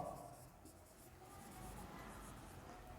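Chalk or a marker scratches across a board during a maths lesson on fractions and decimals, a quiet, steady scraping of writing strokes heard close up with no talk over it.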